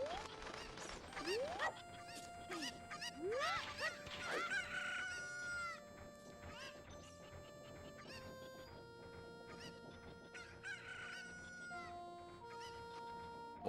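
Cucco chickens clucking in the game Zelda: Ocarina of Time: a run of sharp squawking clucks and cries, busiest early on, mixed with steady game music and sound effects, fairly quiet overall.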